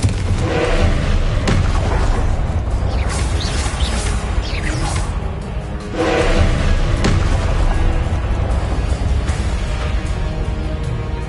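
Spell explosions and magical blasts in the video game Hogwarts Legacy, a dense, continuous barrage of booming thuds and whooshes layered over loud game sound, with no break for eleven seconds.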